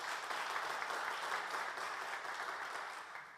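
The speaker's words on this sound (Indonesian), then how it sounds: "Beri tepuk tangan dulu buat Tuhan kita," A church congregation at a Sunday worship service claps together, dense and steady applause filling the room for a few seconds before easing slightly.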